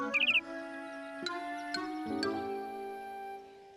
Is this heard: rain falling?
no